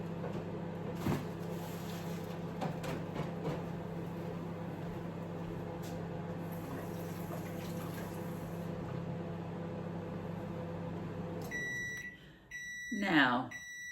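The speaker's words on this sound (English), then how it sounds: "the microwave is dinging for the second minute." A microwave oven beeps near the end, a short series of clear electronic tones following the steady hum of the running oven, with a voice briefly overlapping.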